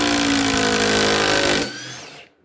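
A Ryobi sub-compact impact driver backs a 4-inch, 12-gauge wood screw out of wood with a loud, close, rapid hammering whir that holds steady, then cuts off and winds down into quiet.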